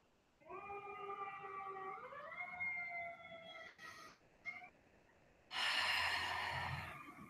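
A distant siren holds a steady tone, then rises in pitch and fades, followed by a loud breathy burst near the end.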